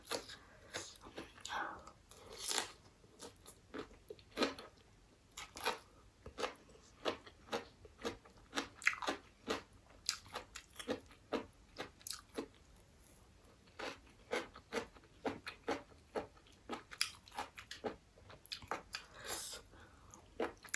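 Crunchy Chinese kale chewed in a dry, very spicy glass noodle salad, with close, loud crisp bites repeating in a steady rhythm for the whole stretch and no talking.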